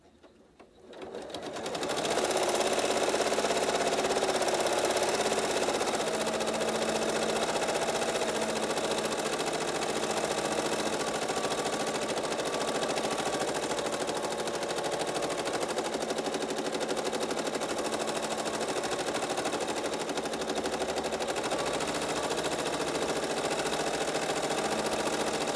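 A sewing machine stitches free-motion pebble patterns on fabric, starting up after a brief quiet moment and then running loud and continuous at close range with a rapid, steady needle chatter.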